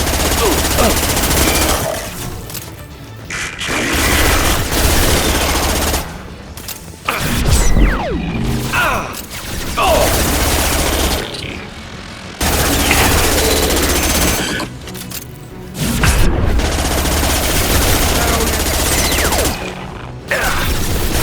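Impact shot gunfire from Mass Effect 2 Legendary Edition: loud, harsh bursts of rapid mechanical shots, separated by brief pauses and repeating across the stretch.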